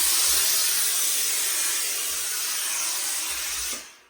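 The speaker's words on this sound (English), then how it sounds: "Now what we'll do is a quick bit of steam around the block," A steamer blows a steady, loud hiss of steam around a hat on a wooden block, continuous for about four seconds before cutting off near the end.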